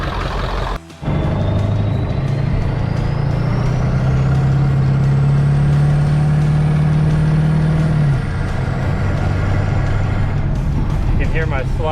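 Ford 7.3 Powerstroke diesel pickup, an OBS truck fitted with a hood stack, drives off with a loud, close engine drone that rises steadily in pitch with revs over several seconds, then drops back toward a steady rumble.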